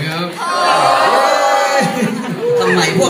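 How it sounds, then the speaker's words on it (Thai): An audience at a live event at AIS cheers loudly, with a crowd roaring, whooping and yelling close by and steadily for a few seconds. "ทำไมพวกเราเชียร์กันจังเลย"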